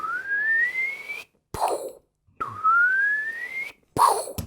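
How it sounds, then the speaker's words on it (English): Palm repulsor on an Iron Man DeAgostini model right forearm fires twice, each a rising electronic whine lasting about a second followed by a short blast burst, close and moderately loud. "let's fire up the repulsor on the palm"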